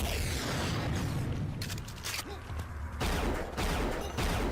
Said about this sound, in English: That honestly sounds quite a bit like Unreal Tournament's minigun